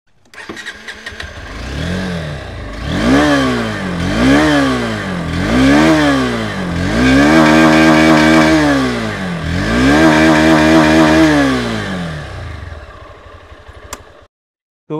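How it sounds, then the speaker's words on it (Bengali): A 2024 Honda CB 200X motorcycle engine revs up and falls back repeatedly, about six loud, close rising-and-falling throttle blips in a steady rhythm, with no talking over it before it cuts off. "তো এই বাইকটার সাউন্ডটা কেমন সেটা একবার আপনাদের শুনিয়ে দিই"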